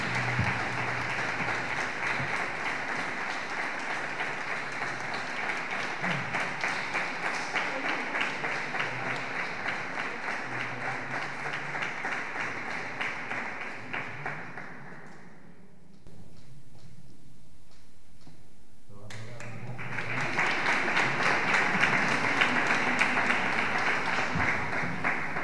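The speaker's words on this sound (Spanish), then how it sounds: "Fuerte aplauso para ella." Audience applause at a tribute ceremony honouring retired teachers: steady, moderately loud clapping from a crowd for about fifteen seconds, a brief lull, then a renewed, fuller burst of clapping.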